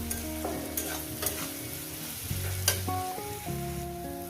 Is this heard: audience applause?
no